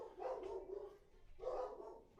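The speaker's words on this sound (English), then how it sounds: "You guys hear my dogs?" Several dogs bark at a delivery in a house, two bursts of overlapping yapping and barking, somewhat muffled and distant.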